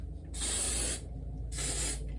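Aqua Net hairspray hisses from an aerosol can in two close, loud bursts about a second each, separated by a brief pause.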